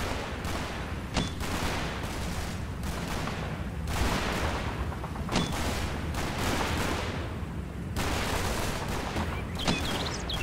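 Mortar and artillery fire in Combat Mission Fortress Italy, repeated heavy booms and crackling barrages landing every couple of seconds over a continuous rumbling din, fairly loud with no voices.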